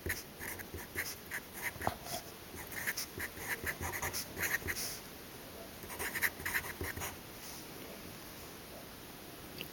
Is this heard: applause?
no